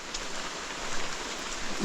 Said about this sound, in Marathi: पाऊस केवढासा पडतो आहे